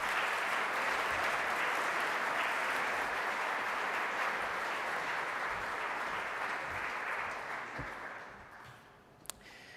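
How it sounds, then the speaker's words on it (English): Sustained, dense audience applause at the Pride of Guernsey Awards 2020 ceremony, loud and steady for most of the clip before thinning out near the end, with a single sharp click just before it finishes. "Round of applause for Jeff."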